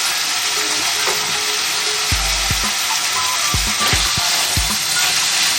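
Masala stirred in a frying pan for cauliflower masala: a close, steady sizzle with a quiet start, then a run of sharp spoon scrapes and knocks in the second half.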